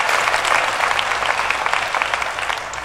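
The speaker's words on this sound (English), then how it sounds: "Let's give him a round of applause too." Audience applause fills a hacker conference hall, dense steady clapping from a large crowd that holds at full strength throughout, with no voices over it.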